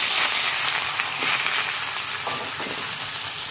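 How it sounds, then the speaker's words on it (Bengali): Thin slices of potato frying in hot oil among winter vegetables, giving a dense, steady sizzle with scattered crackles, close and continuous, with no voices over it. "এবার এই তেলের মধ্যে দিয়ে দিচ্ছি এরকম পাতলা পাতলা করে কাটা আলু"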